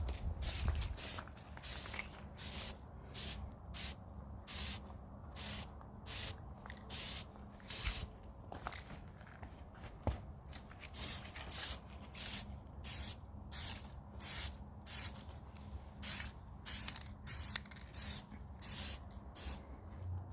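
Short bursts of spray paint hiss onto rope lights as another coat goes on, about two dozen rhythmic pulses, each a second or less, close and moderately loud with brief gaps between.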